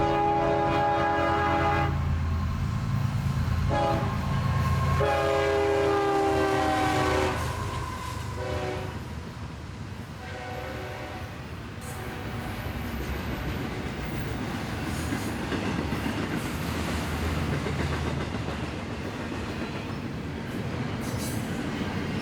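CSX hotshot intermodal freight train I-008 passing at Union City, Indiana, horn blasting in the first seconds, then a steady rumble of wheels and cars rolling by under gusty wind.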